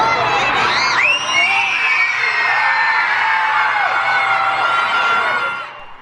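Fangirls scream and cheer loudly at a 2022 tour concert, a dense wall of high-pitched shrieks and whoops that holds steady before easing off at the end.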